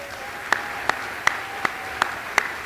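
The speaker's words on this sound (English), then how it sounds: "would you all please give a round of applause?" A few evenly spaced claps ring out about three times a second over a steady background hum at the FTCC 2024 fall convocation, sounding like slow, deliberate applause.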